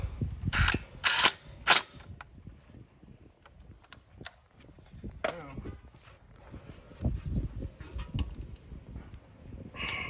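Impact wrench snugging lug nuts on a 2014 Ford F-150 during a brake pad job gives three sharp, loud rattling bursts in the first two seconds, followed by quieter clanking and shop handling noise.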